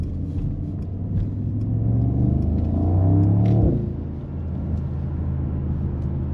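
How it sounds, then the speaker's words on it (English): A 2025 Mercedes-AMG SL 63 S E Performance roadster, an 805 hp hybrid, accelerates hard, its engine note rising and swelling in a steady climb before dropping back to a low rumble. "You can see how much torque the car is delivering."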